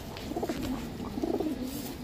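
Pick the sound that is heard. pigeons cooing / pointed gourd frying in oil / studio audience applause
pigeons cooing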